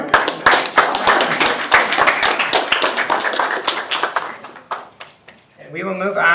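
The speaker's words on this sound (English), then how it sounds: "Let's give one more round of applause for all the members." Applause at a school board meeting for the board members: a steady clatter of hand claps fills most of the clip, then tapers off and a speaking voice follows.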